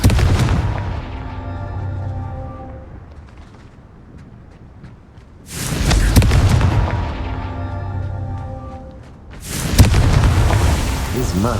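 Confringo spell blasts in the Hogwarts Legacy video game, three heavy booming explosions each followed by a long rumbling decay, loud and close, with game music under them.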